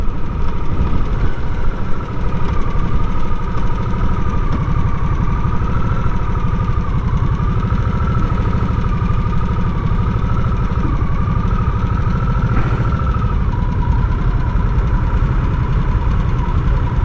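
A Harley-Davidson Nightster Special motorcycle rides through Conyers, Georgia, its engine running quietly in a steady, low continuous hum with a faint mid-pitched tone, alone and fairly even throughout.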